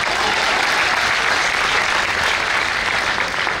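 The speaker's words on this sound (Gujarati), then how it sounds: "તાળીઓ વગાડો" A live audience at a Gujarati talk bursts into dense, continuous applause, loud and close, sustained without a break for a few seconds.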